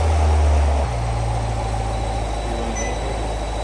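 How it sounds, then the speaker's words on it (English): A 2017-2019 C7 Corvette Grand Sport V8 engine runs and warms up, a steady low rumble that settles to an even idle after a louder first second, heard close and alone. "We've run the engine, let it warm up, we've shut it down."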